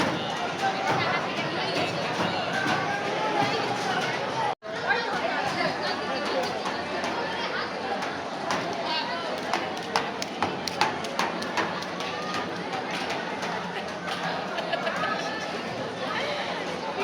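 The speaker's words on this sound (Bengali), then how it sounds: "এখানে প্রচণ্ড নয়েজ, অবভিয়াসলি পাবলিক এরিয়া তো নয়েজ তো হবে।" Dense crowd chatter and shuffling fill a busy public area at Adyapith temple during bhog time, a steady wash of many voices with scattered taps and thuds throughout.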